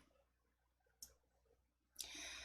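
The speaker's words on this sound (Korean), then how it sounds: "확인을 클릭." Two crisp mouse clicks a second apart, the second followed by a brief hiss, confirming a dialog box in Excel during a spreadsheet task; quiet room, no talk.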